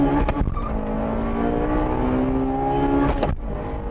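A Honda Integra Type R races a 2-liter turbocharged 220-horsepower Nissan Silvia. A loud, close engine drones and climbs steadily in pitch under acceleration, then breaks off abruptly near the end as a shift or pass cuts in.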